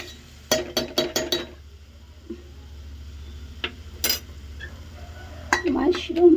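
Onions frying in oil in a pan for mushroom curry, stirred with a metal utensil: a few sharp clinks and scrapes against the pan over a soft low hum, with faint sizzling near the end.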